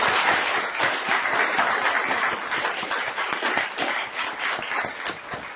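A hall full of people applauds the final four competitors and members of the Moot Court Association at the 38th annual Charles W. Froessel Moot Court Competition, dense sustained clapping, loud and close, continuing evenly for several seconds.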